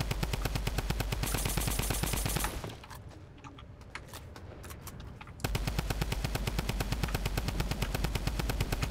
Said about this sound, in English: I'm so glad that we actually got the drum gun instead.